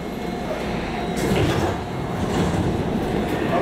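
Riding aboard an airport-bound MARTA Red Line train from North Springs, a steady loud rumble of wheels and car noise fills the cabin, swelling slightly at times, with no voices.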